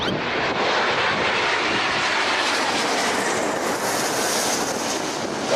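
A broad, steady engine roar of an airplane passing overhead, loud and sustained throughout with no voices.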